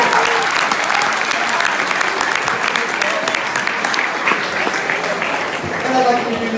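Steady, dense audience applause fills a university hall during a 2018 hypnotist stage show. It is loud and continuous for the whole stretch, with no break.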